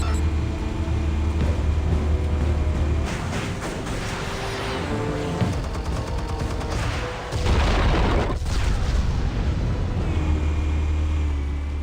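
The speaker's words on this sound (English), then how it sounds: "Explosives armed. Fire when ready." Armed explosives go off in Batman: The Telltale Series, a loud, sustained rumbling blast with deep low-end roar and crackling debris, swelling again late in the sequence.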